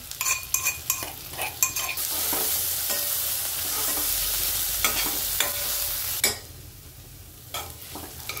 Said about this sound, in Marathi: तर आता हे हिरव्या मिरचीचं वाटण टाकून घेऊ, याला पण आपण तेलामध्ये परतू।